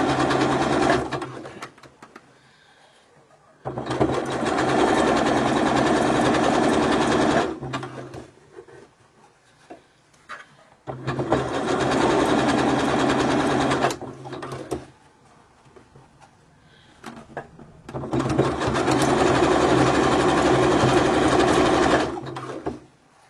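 A sewing machine stitches a 3-stitch zigzag over a tulle seam, running in three sustained bursts of rapid mechanical whirring separated by quiet pauses.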